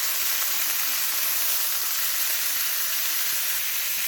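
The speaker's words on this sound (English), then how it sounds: "You want your pan good and hot, just so we get a good sear." Steak fillets searing in a very hot pan give off a steady, even sizzle that holds at one level the whole way through, with no one talking over it.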